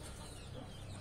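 Indian game fowl, a combat chicken breed, clucking steadily at close range over a constant low hum, with no talking.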